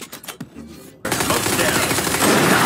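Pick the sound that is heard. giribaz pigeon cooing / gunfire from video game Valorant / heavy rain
gunfire from video game Valorant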